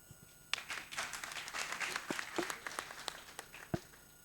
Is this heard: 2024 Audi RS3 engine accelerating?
no